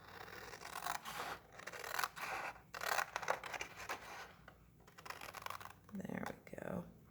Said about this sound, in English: I'm just going to take this and cut on those score lines right here